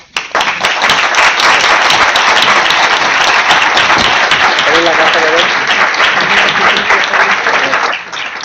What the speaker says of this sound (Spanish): primero un aplauso.